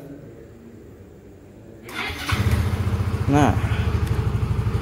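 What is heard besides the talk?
motorcycle engine starting then idling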